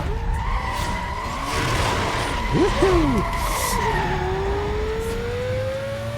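A Porsche Carrera GT in the racing game Need for Speed Most Wanted, its engine holding a loud, steady drone that climbs in pitch near the end, with a brief squeal of skidding tires in the middle.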